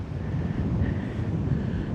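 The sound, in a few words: wind at the seaside on the Giens peninsula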